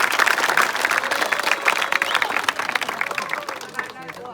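Crowd applause for a Govinda pathak practising an eight-tier human pyramid at CP Talav, a dense, steady clapping wash with voices and shouts mixed in throughout, fading slightly near the end.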